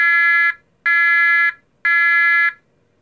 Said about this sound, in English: the first tone is 340 Hertz continuous